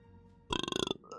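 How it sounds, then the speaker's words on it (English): One loud, rattling burp erupts abruptly and lasts about half a second before cutting off into quiet. "that was a crazy burp"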